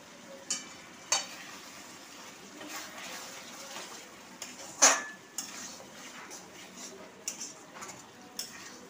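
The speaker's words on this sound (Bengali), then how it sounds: "আমি এটাকে খুব ভালোভাবে নাড়ছি।" A utensil stirs chilli sour chicken curry frying in a pan, giving scattered clinks and scrapes over a faint, soft sizzle.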